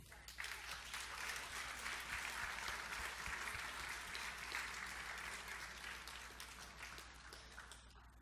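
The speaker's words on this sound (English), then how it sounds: "let's give a warm round of applause to you" Sustained audience applause fills an awards gala hall, a dense, steady wash of many hands clapping that holds strong throughout and tapers slightly at the end.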